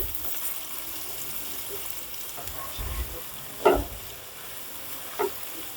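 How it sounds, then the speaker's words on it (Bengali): Onions and garlic frying lightly in a pan for palong paneer: a soft, steady sizzle with a few sharp clinks and scrapes of stirring, close and quiet, with no talk. "পেঁয়াজটা একটু ভেজে নিচ্ছি হালকা"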